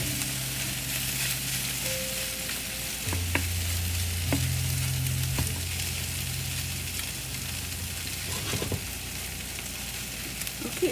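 A one-pan breakfast skillet with cheese cooking in a pan, a steady even sizzle with a few sharp utensil taps, close and moderately loud, with no speech.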